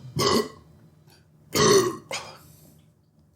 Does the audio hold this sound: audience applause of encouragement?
no